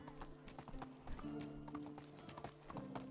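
A horse ridden at a walk in the Medieval Dynasty video game, steady rhythmic clip-clop of hooves, close but quiet, over a soft ambient background.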